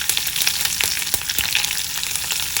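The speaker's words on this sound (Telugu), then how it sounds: "తాలింపు వేగాక దీనిలో కరివేపాకు, మీ స్పైస్ని బట్టి పచ్చిమిరపకాయలు ఇలా సన్నగా ముక్కలు కోసి వేసుకోండి" Curry leaves and finely chopped green chillies frying in hot tempering oil, giving a steady close sizzle with scattered sharp pops and crackles throughout, no voices.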